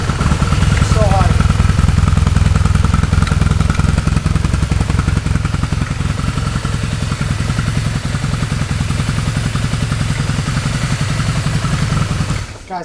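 A 1996 BMW R1100 motorcycle engine fires up and settles into a loud, steady, close idle with a rhythmic mechanical pulse that holds throughout.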